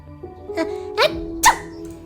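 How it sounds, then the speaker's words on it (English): A bush sneezing in a video game, heard as a short series of cartoonish sneeze-like bursts, three distinct sharp puffs rising in loudness over a faint tonal background. "Either I'm delusional or the bush had just sneezed"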